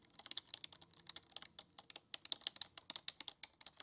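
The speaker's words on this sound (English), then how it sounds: "This is what it sounds like when typing on the keyboard." Logitech K400 wireless keyboard being typed on, a fast irregular run of light plastic key clicks with occasional brief pauses, heard up close and quiet.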